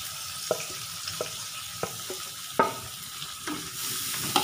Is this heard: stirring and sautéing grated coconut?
yes